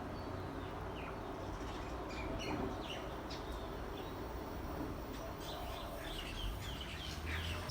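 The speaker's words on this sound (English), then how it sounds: "I'm just gonna be silent for a minute just so you can hear the birds" Birds sing and chirp around a lanai in Hawaii: scattered short calls and tweets, moderately distant, over a steady hum of outdoor background noise.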